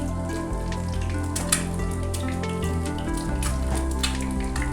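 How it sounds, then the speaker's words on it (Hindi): An egg frying in a pan for a toasted club sandwich, giving a steady close sizzle with scattered crackling pops throughout, heard alone without talk. "जो आपको आवाज़ आ रही है ये मैं इसका एग फ्राई कर रही हूँ"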